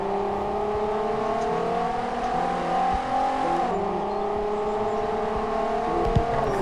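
A car engine in the mobile game Driving School Sim 2020 drones steadily with layered harmonic tones, revving slightly up and down, dropping briefly before climbing again, continuous and fairly close.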